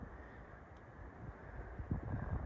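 Wind buffets a microphone outdoors among tall grasses on a windy day, a steady low rumble with gusts that swell louder toward the end, with no speech.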